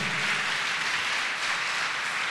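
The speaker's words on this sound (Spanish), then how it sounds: "¿por qué no le da un fuerte aplauso al Señor por eso?" A church congregation claps in sustained, even applause for the Lord, a steady wash of hands throughout the short stretch with no pause.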